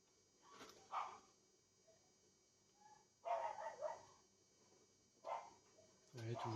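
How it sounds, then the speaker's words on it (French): Dogs bark in short, scattered bursts at a distance, faint against an otherwise quiet outdoor background, with pauses of a couple of seconds between volleys. "toujours les chiens qui gueulent pour rien"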